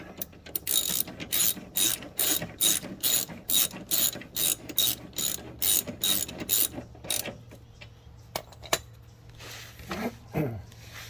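Hitch bolts snugged up on a Toyota RAV4 with a ratchet, a rapid run of loud, evenly spaced clicks close by, then a few slower, scattered clicks and a brief metallic squeal.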